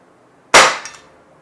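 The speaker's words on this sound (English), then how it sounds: "I will fire 10 rounds out of this magazine instead of full 14 rounds that it has." A single sharp crack from an Umarex Glock 17 Gen5 6mm airsoft pistol, close and loud, followed by a brief metallic clatter and quick fade.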